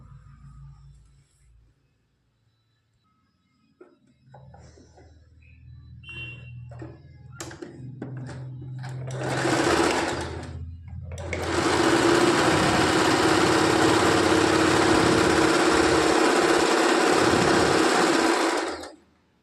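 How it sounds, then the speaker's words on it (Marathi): A sewing machine stitches a hem along the bottom of a blouse, starting with a few slow thumps, then running fast in a loud, continuous whirring burst for about eight seconds before stopping. "आता खाली बॉटमला अर्धा इंचावरती स्टिच टाकून घ्यायच्या."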